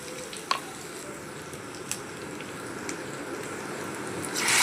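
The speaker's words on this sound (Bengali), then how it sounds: "পটল ভাজা তেলে দিয়ে দিব পেঁয়াজ, জিরে বাটা, আদা রসুন বাটা, লবণ, হলুদ গুঁড়ো, মরিচ গুঁড়ো ও ধনে গুঁড়ো" Onion with cumin paste, ginger-garlic paste, salt, turmeric, chili and coriander powder fries in oil left from frying pointed gourd, a steady soft sizzle with a few faint clicks and no talking.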